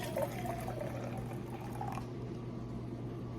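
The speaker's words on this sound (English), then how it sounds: "Okay, you could pour it into a cup here" Water pours from a Jetboil Zip stove pot into a cup, a steady close trickle running for about two seconds before thinning out.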